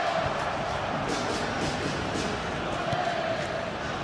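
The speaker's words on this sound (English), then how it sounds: "that's woken up the Indonesian fans here in the crowd" Indonesian fans roar in the stadium crowd of a FIFA football video game, a steady, distant wash of cheering and chanting that holds at an even level throughout.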